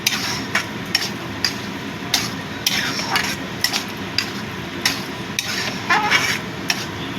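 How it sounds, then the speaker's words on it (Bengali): Onion and lote fish fry stirred in a pan, with repeated sharp scraping and tapping strokes of a spatula against the metal at a steady, uneven rhythm, close and fairly clear over a soft low sizzle. "এবার ভালো করে মিশিয়ে দেব।"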